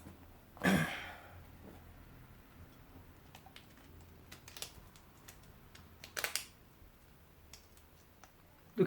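Scissors cutting a traced round patch out of material for an inflatable dinghy valve repair, giving a few sharp, close snips and clicks scattered across an otherwise quiet stretch.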